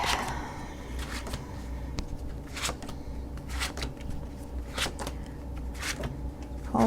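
A deck of tarot cards shuffled by hand up close, with a run of quick papery riffles and slaps repeating in uneven bursts.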